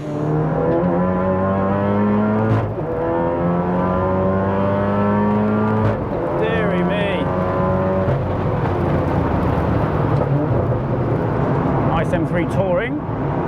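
A tuned 500 bhp big-turbo MK7 Golf R laps a Belgian race circuit, its engine droning loudly from inside the car and climbing in pitch through repeated gear changes, with a person talking over it.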